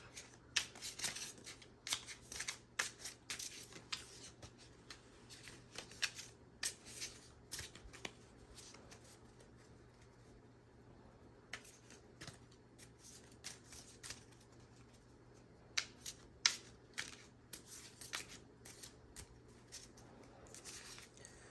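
Tarot cards are shuffled and handled close up at low volume, giving soft riffling bursts and light flicks in irregular clusters over a faint steady hum, with no voices.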